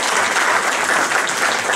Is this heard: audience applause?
yes